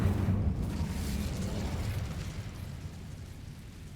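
Incendio fire spell cast in the video game Hogwarts Legacy: a deep, roaring whoosh of flame that bursts at once and slowly fades over a few seconds, loud and close with no talk.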